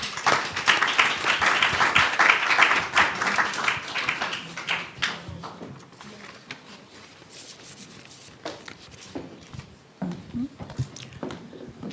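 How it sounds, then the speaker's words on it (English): An audience applauds panelists joining the stage at an event on ending violence against women and girls, with a burst of clapping that fades to scattered claps and shuffling. "Please give them a round of applause."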